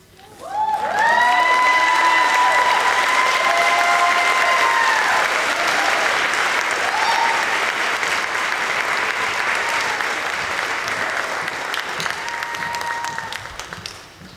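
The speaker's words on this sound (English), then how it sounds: "Could we get one more round of applause for Michaela?" A large graduation audience bursts into sustained applause with cheers and whoops over it, the clapping staying loud and dense for over ten seconds before slowly thinning at the end.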